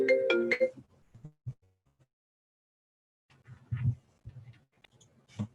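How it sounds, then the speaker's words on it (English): A mobile phone ringtone plays a bright, short melodic burst at the start, then gives way to near silence and a few soft, low bumps and rustles. "Now my phone's gonna ring."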